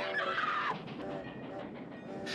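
A train approaching in the 1986 film Stand By Me, a steady rumbling rush with a brighter noisy burst near the start and high hiss returning at the end, fairly loud and continuous throughout.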